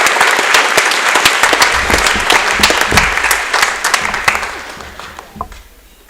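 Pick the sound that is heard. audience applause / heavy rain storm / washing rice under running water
audience applause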